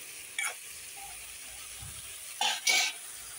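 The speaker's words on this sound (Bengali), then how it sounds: "এখন আস্তে আস্তে টমেটোটা মজিয়ে নেব।" Tomato chutney being stirred in a cooking pan: a few brief, quiet scraping strokes with a faint sizzle beneath, near and alone.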